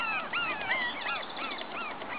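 A puppy whimpers up close: a string of thin, high, wavering whines that rise and fall in quick succession, with no voices over them.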